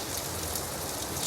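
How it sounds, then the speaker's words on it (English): Gentle rain falls steadily in a dense, even patter on a surface, close and constant throughout, with no voices. "the gentle cadence of falling rain has continued"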